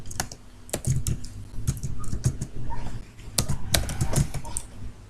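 Fingers typing code on a computer keyboard, irregular bursts of sharp clicks and key taps at close range, pausing briefly between runs, with no speech.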